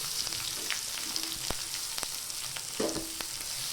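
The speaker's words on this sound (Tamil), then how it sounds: "இது நல்லா கோல்டன் ப்ரௌன் வரைக்கும் ஃப்ரை பண்ணிக்கோங்க" Sliced onion with cinnamon stick, clove and fennel seeds fries in hot oil for a capsicum kadai curry, giving a close, steady sizzle with a few sharp spatula taps and scrapes.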